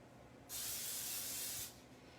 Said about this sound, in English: we're going to spray this bowl with some cooking spray